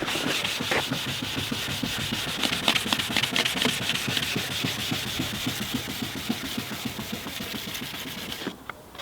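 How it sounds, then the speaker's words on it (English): Wet sanding of oxidised car headlights: a fast, steady run of close back-and-forth rubbing strokes that continues evenly for several seconds with no talking, then stops abruptly near the end. "because I'm sanding his headlights"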